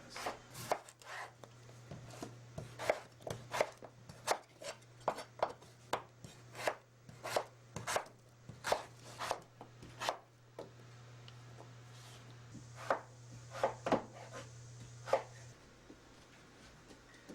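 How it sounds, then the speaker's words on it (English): A knife cuts roasted potatoes into wedges on a board. Crisp, quiet chops come in an uneven run of taps and short bursts over a low steady hum, with a brief pause partway through. "So we'll cut up these potatoes."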